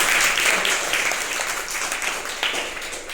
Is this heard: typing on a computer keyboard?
no